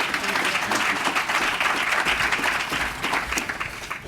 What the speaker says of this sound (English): give David a big round of applause as we welcome him to the stage